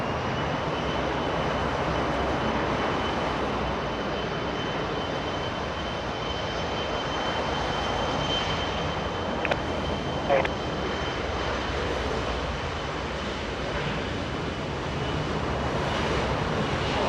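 Air Force One, a Boeing 747, flares and lands at LAX with a steady, broad jet roar that holds evenly throughout at a moderate distance, with faint voices underneath.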